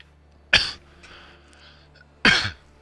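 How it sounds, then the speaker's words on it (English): Two sharp, close coughs from a man, spaced about two seconds apart, each a loud burst that quickly fades, with quiet in between. "Got a little cough going on."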